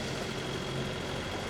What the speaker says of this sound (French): Je viens d'allumer le moteur, il n'y a plus de vent.